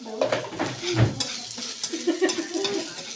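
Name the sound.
sautéing onions and garlic in a pan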